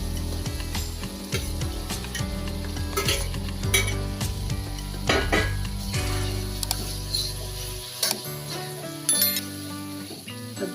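Fried soya chunks being added to a pan of masala rice and stirred, with clattering spoon-on-metal scrapes and clinks over a low sizzle, busy and close, settling quieter near the end.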